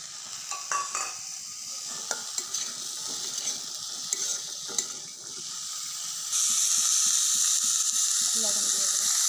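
Okra fries at full heat in a pan with pointed gourd and sponge gourd, a continuous sizzle broken by repeated scraping stirs close by. The sizzle grows louder and brighter toward the end.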